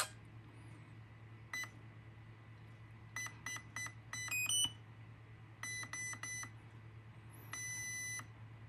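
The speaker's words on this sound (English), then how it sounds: "And then neutral, there's gonna be a series of beeps." Faint electronic beeps from a RadioLink Cool 9030 brushed 90A speed controller during calibration sound in short clusters, a single tone repeated several times then higher multi-tone chirps, over a low steady hum.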